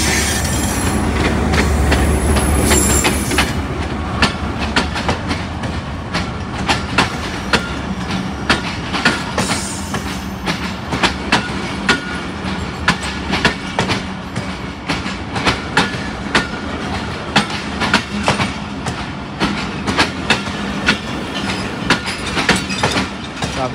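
Malkwal Express passenger train running on rails in early morning, a steady rumbling roll with rhythmic clickety-clack of wheels over rail joints and occasional squeals, loud and continuous throughout with no talk.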